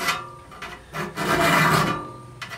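A hand file rasping across the teeth of a hand saw blade in short, close strokes, one longer pass in the middle, gritty and fairly loud with no talk.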